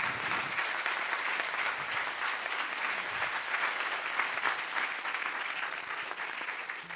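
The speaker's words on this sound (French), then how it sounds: "on l'applaudit" Sustained audience applause at a university climate-action talk, dense and steady throughout with no voices over it.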